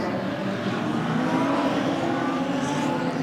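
Modified sedan race cars at Mildura Speedway roar as a continuous distant engine wash, a steady blended drone of several cars circulating on the speedway with no voices.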